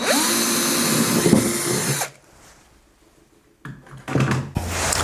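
A power drill bores a second pilot hole into a wall, whirring loudly and steadily before stopping, followed by near silence and then a few close knocks and handling noises.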